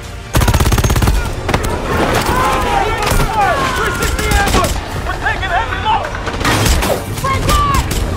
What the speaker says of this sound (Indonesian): Pasukan Monarch mulai masuk secara paksa dengan menembaki para pengawal.